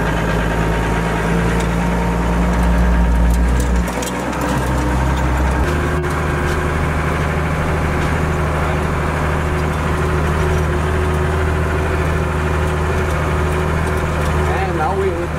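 A Unimog truck's diesel engine runs steadily in second gear while driving in Germany, giving a loud, constant low drone with a brief drop in pitch partway through, and people talk over it.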